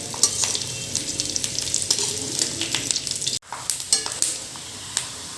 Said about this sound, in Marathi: हा कांदा आपल्याला व्यवस्थित कडक होईपर्यंत भाजून घ्यायचा आहे